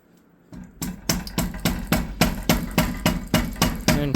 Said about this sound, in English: to get some mounting bolts started, you'll also likely need to tap things with a mallet